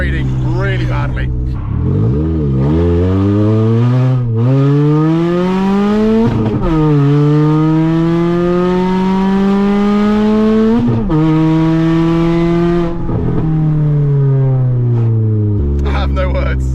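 A loud 200 bhp Ford Fusion ST accelerates hard through repeated gear changes, its close, booming engine note rising and dropping at each shift, with people talking over it.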